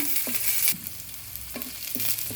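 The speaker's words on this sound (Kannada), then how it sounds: "ಒಂದು ಈರುಳ್ಳಿ ಸಿಪ್ಪೆ ತೆಗೆದು ಉದ್ದ ಹೆಚ್ಚಿಟ್ಟಿದ್ದೆ ಅದನ್ನು ಹಾಕ್ತಾಯಿದ್ದೀನಿ ಇದೊಂದು ಸ್ವಲ್ಪ ಫ್ರೈ ಆಗಬೇಕು" Long-sliced onion frying in a pan gives a steady sizzle, broken by a few scraping stirring strokes.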